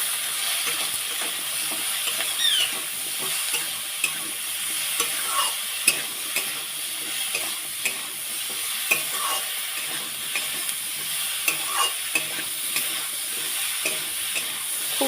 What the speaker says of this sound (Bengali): একটুখানি গুঁড়ো লঙ্কা একটু হলে আবারও একটু ভালো করে ভেজে নেব